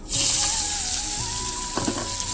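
Whole cumin and chopped onion dropped into hot oil for a Bengali tangra fish curry, a loud sudden sizzle that settles into steady close frying with faint stirring clatter.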